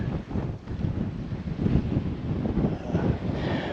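Desert wind buffets the microphone in a steady, loud, rumbling gust, swelling and easing over a few seconds with no other sounds.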